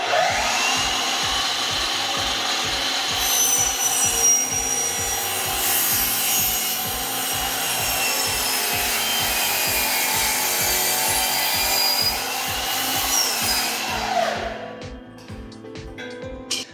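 A power cutting saw cuts through wooden lumber for a curtain box, giving a loud, continuous, close grinding whine over a steady rhythmic thump that winds down near the end.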